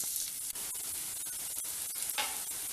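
Bell pepper sautéing in a pan for garlic vegetable fried rice, a faint continuous hiss of frying with a few soft stirring clicks.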